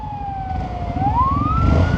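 An ambulance siren wails close by at night, its pitch dipping then rising, over a rumbling motorcycle engine and traffic noise.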